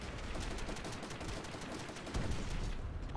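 Continuous enemy gunfire in Call of Duty: World at War, dense overlapping shots and bursts at steady loudness for the whole stretch, swelling briefly louder near the end.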